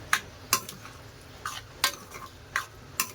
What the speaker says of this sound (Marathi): चांगली ढवळून घ्यायची।